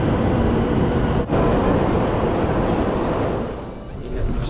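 Train at a station beside railway carriages, a loud steady rumble and hiss of rolling rail noise filling the platform with a brief dip partway through.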